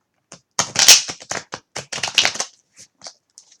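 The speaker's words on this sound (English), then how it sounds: "Just gonna do one last shuffle," Tarot cards are shuffled close up in a run of quick, crisp riffling taps and flutters that bunch together, then thin out into a few scattered soft clicks.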